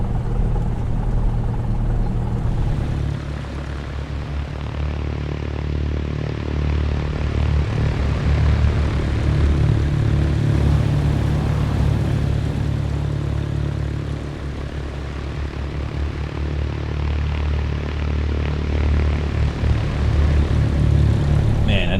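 Cessna 172 single-engine propeller plane in a flight simulator soundpack, a continuous droning engine and propeller hum with a steady low throb, loud and close for the whole stretch without talking.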